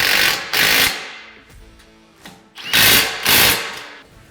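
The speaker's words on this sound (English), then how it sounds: "Now we're going to fully tighten our brush guard to our factory bumper." A power tool tightens the hardware holding a SuperATV brush guard to the factory front bumper of a CFMoto UForce 1000, running in several short, loud whirring bursts separated by quieter pauses.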